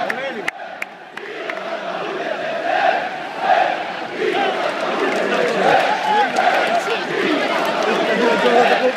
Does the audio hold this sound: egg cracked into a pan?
no